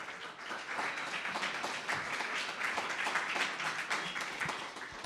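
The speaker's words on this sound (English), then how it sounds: "So let's give her a round of applause." A lecture audience gives steady, fairly soft applause for the speaker, an even wash of many hands clapping at moderate distance for about five seconds.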